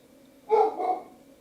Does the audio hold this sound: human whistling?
no